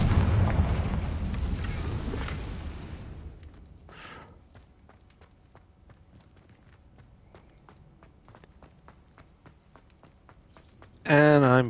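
A Confringo explosion spell cast in Hogwarts Legacy: one loud, broad fiery burst that rumbles and decays over a few seconds, then quiet footsteps and small ticks follow before a brief bright chime at the end.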